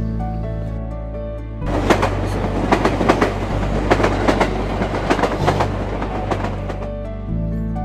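A passenger train bound for Cox's Bazar station in Bangladesh runs along the rails with a constant low rumble, and a burst of quick clickety-clack rail beats comes through loud and close in the middle.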